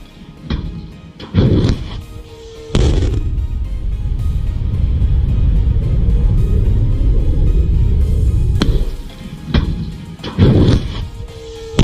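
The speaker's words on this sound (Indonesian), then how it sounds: "Dan ini adalah bunyi rudal S-500." A Russian S-500 missile system launch gives a loud, close roar: a few heavy thumping blasts, then a sustained rumbling rush lasting several seconds, followed by more sharp bursts.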